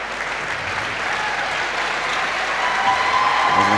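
Basketball crowd applauding as a player leaves the court at a women's under-20 cup final, a steady wash of clapping from the stands that swells slightly, with faint shoe squeaks late.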